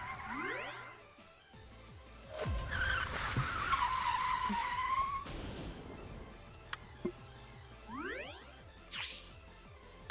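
A car drifting in a racing video game, tires skidding and squealing in a long drawn-out slide over the engine's roar, with sweeping whooshes, a few small dings and chimes near the end, and no talk.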